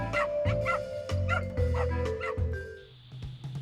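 A small dog barks at thieves in a quick run of sharp, high yips and whimpers, close and loud, with brief pauses between bursts.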